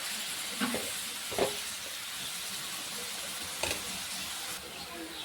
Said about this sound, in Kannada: ಈರುಳ್ಳಿ ಇದು ಒಂದು ಸ್ವಲ್ಪ ಎಣ್ಣೆಗೆ ಫ್ರೈ ಮಾಡ್ಕೊಳ್ಳೋಣ